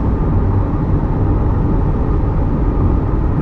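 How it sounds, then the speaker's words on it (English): A torch red C8 Corvette with a performance exhaust cruises along, its engine and exhaust making a loud, continuous low rumble from inside the car, with no speech. "I have the performance exhaust, so there's a little bit more of a sound."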